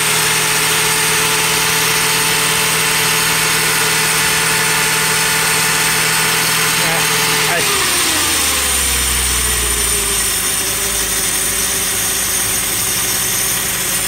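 A 2000 Lincoln LS engine idles, heard from underneath the car: a steady close mechanical hum that drops to a deeper, heavier rumble about halfway through, with no talk.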